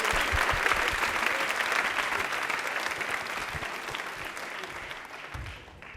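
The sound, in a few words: audience applause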